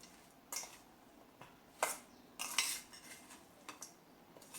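A spoon clinks and scrapes against a bowl while raw mango pickle is mixed, several sharp metallic taps at irregular intervals over quiet background.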